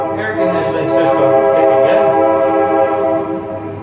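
A loud, sustained train horn at Stone Mountain, heard from a summit sky ride cabin, holds steady for several seconds over low rumbling rail noise, with faint voices underneath.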